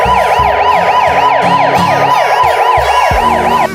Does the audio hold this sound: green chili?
no